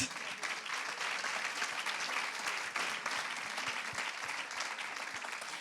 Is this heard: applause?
yes